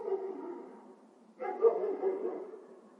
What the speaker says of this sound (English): look at a dog barking